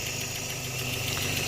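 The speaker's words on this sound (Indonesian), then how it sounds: "kondisi mesinnya, kalau kalian bisa dengar, kondisi mesinnya masih halus sekali" A Toyota Vios engine idles steadily and smoothly with the hood open, a continuous low hum and faint mechanical patter throughout, with no voices.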